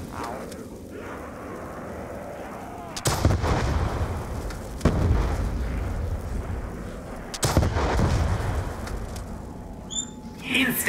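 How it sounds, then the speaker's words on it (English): RPG rocket launcher blasts and explosions in Black Ops 2 Zombies, several heavy booming bursts spaced a couple of seconds apart over continuous game noise, with a voice talking through it. "A gun that shoots bombs."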